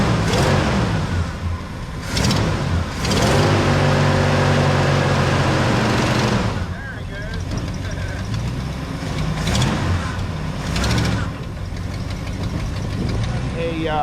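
A 1975 Ford F100 Supercab truck engine revs and idles loudly up close, with a ticking exhaust leak audible through bursts of throttle and a rough idle between them, voices talking over it at times.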